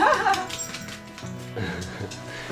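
Dogs settling into a new 4x4 Dynamax Isata 6 30FW RV give soft whimpers and small yips, close and fairly quiet, against a light indoor background.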